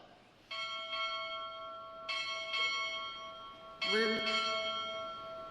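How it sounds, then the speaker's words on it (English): A ship's bell rings six times in three evenly spaced pairs at a U.S. Navy ROTC graduation ceremony, each strike left to ring out, as a voice starts near the end. "Strike 6 bells."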